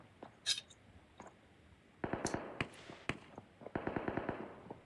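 Gunfire in PUBG Mobile: bursts of rapid automatic shots crackle at moderate distance, with an early isolated shot and then two dense volleys separated by short pauses.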